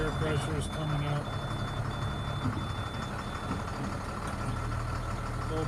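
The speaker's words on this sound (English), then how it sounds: "we'll just look at the engine a little bit while it's running" A 2005 Altec AA600L truck's engine idles steadily with a low rumble, while a repeating high reversing-style beep sounds in regular pulses over it; some faint voices or background noise mix in.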